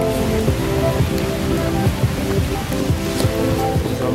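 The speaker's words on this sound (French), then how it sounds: "Et il commence à pleuvoir, on va être trempé." Steady rain falls in Brittany, a dense, even hiss of drops on surfaces running the whole time with no clear talk over it.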